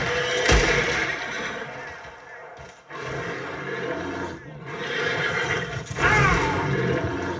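A horse in the video game Red Dead Redemption II neighs loudly and close, with a harsh, rasping whinny over a busy rumbling backdrop and a sharper squealing cry near the end.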